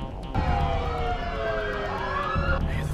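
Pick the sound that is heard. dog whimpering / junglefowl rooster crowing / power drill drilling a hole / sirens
sirens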